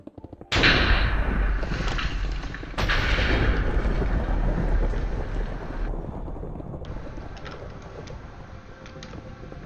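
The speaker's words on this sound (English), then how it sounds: "That's just a thunderstorm, by the way, in Minecraft." Thunderstorm in the Minecraft video game: a sudden loud thunderclap, a second crack a couple of seconds later, then a long rolling rumble that slowly fades, with no voices.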